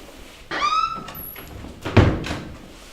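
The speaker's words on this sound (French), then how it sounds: "Veuillez fermer la porte." A door closes with a squeak followed by a dull thud, fairly close, in a quiet room.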